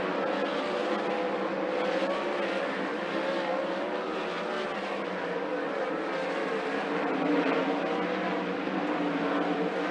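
360 sprint cars racing around a dirt track at a speedway, a steady, dense engine roar from several cars blending together, continuous and fairly loud.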